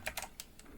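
Quick keystrokes on a computer keyboard as a URL is typed: a short burst of about five crisp, quiet clicks in uneven rhythm, close by.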